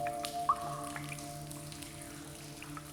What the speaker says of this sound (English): Drip by drip, sculptures are formed.